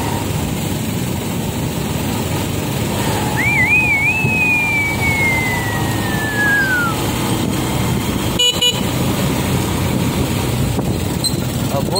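Congested traffic near a school, with motor engines rumbling steadily and a drawn-out horn tone rising then sliding down over several seconds, followed by a short sharp clatter, all fairly loud and close.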